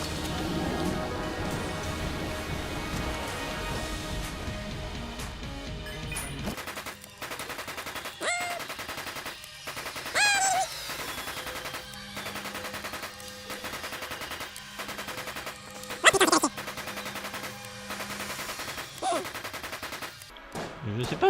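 Gunfire in the video game Enter the Gungeon, a dense rattle of shots mixed with game music and effects, running under someone speaking.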